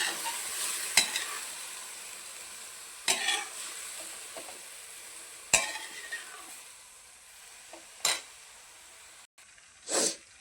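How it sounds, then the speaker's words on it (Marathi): Soaked spring onion greens are stirred in a hot pan. Five distinct scraping stirs at irregular intervals each set off a short flare of sizzling, and a quiet crackle fills the gaps between them. "तर त्याच्यामध्ये भिजलेली कांदा पात टाकून घेऊया. हे चांगल्या प्रकारे मिक्स करून घेऊया."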